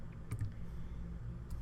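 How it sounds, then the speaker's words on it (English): A few soft clicks of keys on a computer keyboard, including the tab key, faint and spaced over a low steady hum. "I hit the tab character on my keyboard"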